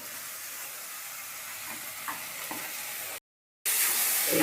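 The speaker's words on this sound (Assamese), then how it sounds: "এতিয়া মই এইখিনি দি দিম ইয়াত বিনখিনি" French beans tossed into a hot pan for a bhaji, a steady broadband sizzle and frying hiss with faint stirring scrapes, cutting out briefly before the sizzle returns louder.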